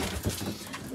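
Pigeons cooing inside a loft of kept racing birds, a short burst of soft, throaty coos close by and fairly loud, with no voices.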